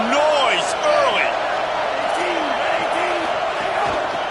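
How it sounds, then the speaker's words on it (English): Crowd noise at a college football stadium during Tennessee vs Utah, a steady loud roar filling the whole stretch, with a commentator's voice heard above it. "This crowd bringing the energy and noise early."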